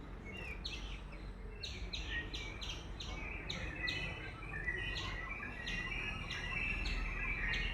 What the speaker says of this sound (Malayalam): ആ പക്ഷികളും എല്ലാം എന്നെ കണ്ടു, അവന്മാരും എല്ലാം ഒച്ച വെക്കുന്നുണ്ട്